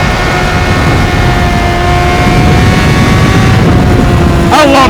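A Honda CBR600RR sport bike roars at full throttle while pulling a wheelie in second gear, a loud, sustained, close engine howl that stays steady for the whole stretch.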